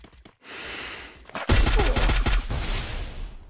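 Rapid bursts of video game gunfire crack out after a brief lull, a dense fusillade of overlapping shots that tapers into scattered rounds.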